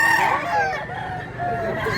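A large three-year-old mestizo rooster crows near at hand in Mantalungon, Cebu, one long wavering call with a low background hum and some faint extra noise underneath.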